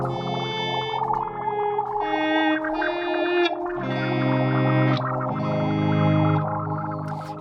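An electric guitar plays sustained chords and notes, smeared by echoing repeats from a delay placed post, less controlled than pre, and a shimmering modulated effect, with no talking.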